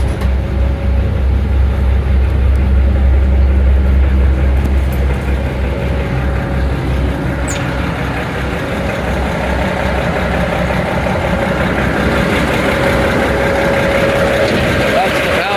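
A Cummins inline six-cylinder engine running in a GE 65-ton center-cab locomotive gives a steady, close, low idling rumble throughout, with people talking over it.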